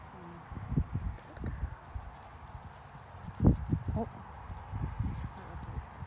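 Horse hooves clip-clopping at a walk as the horse pulls to canter, with uneven close thuds and a brief louder stamp midway, while a rider talks over the hoofbeats.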